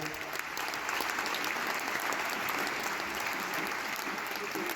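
Sustained, even applause from a concert audience in Besançon during the crew introductions at a show, dense and continuous throughout with no speech over it.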